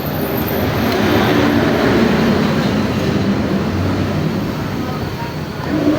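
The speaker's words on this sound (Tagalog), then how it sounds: "maingay yung ating video maraming truck lumadaan" Loud, steady roar of many trucks rumbling past close by, a continuous dense noise that swells and fades slightly without letting up.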